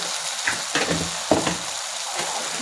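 Ground spices with turmeric, sambar powder and garam masala frying in a pan, giving a soft, steady sizzle with a few light scrapes and taps of a spoon stirring.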